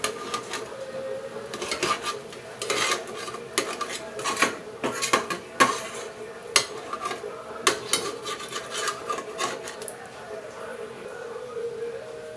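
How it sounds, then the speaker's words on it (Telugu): A knife cutting boiled eggs into pieces on a plate, with close clinks and taps of metal on the plate coming in irregular clusters, sometimes faint and sometimes sharp. "దీన్ని ఒక ప్లేట్లో వేసి ముక్కలు కట్ చేసుకుందాం."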